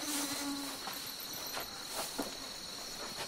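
A mosquito whining close by, a thin high-pitched steady buzz running throughout, with light rustling beneath it.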